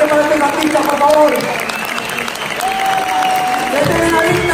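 Loud applause from a live audience at a magic convention gala, sustained over the whole stretch, with excited voices and a tonal line mixed in, likely music or a presenter's voice.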